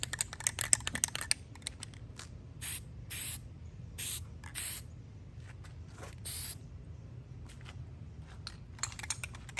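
Aerosol spray paint hissing onto a sign outdoors as a third coat goes on, in several short bursts spaced a second or so apart, close and fairly loud over a low background rumble.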